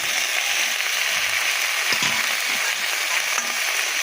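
Small-cut Jyoti potatoes fry in a pan, giving a loud, steady, close sizzle and hiss throughout, with a few faint clinks of stirring.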